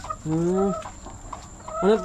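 Chickens on a poultry farm cluck loudly and close by in two short bursts of clucking calls, with a brief quieter pause between them.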